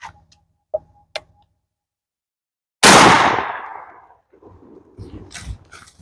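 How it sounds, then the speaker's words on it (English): A Stoeger M3000 semi-automatic shotgun fires one round of double-aught buckshot at cinder blocks 20 yards away: a single loud, sharp blast with a long decaying echo, after a few faint ticks and followed by light rustling. "we're going to use the double-aught buckshot from the same distance, 20 yards."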